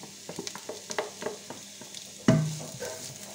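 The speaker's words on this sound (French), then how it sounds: "un peu d'huile pour démarrer la cuisson pour mes oignons et mon ail" Onion and garlic going into a little oil in a pan give a soft scatter of small crackles, then a louder burst of sizzling partway through that slowly fades to a gentle hiss.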